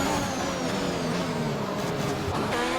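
A Formula 1 race car engine in a video game set at Monaco drones with a continuous high, whining roar that holds steady and close throughout, with no talk over it.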